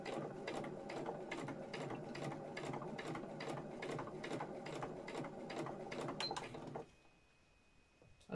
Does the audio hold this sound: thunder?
no